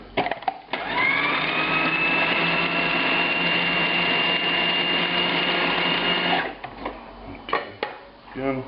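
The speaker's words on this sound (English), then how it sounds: "We'll grind this some more before we add the liquid components." A food processor grinds a meatball mixture of ground meat, breadcrumbs and seasonings, its motor whirring steadily and loudly for several seconds before stopping, followed by a few clatters and handling noises.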